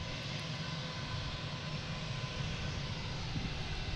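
A British Airways airliner takes off at Boston Logan airport, producing a loud, steady, broadband jet roar that holds at close range for the whole stretch, with no voices.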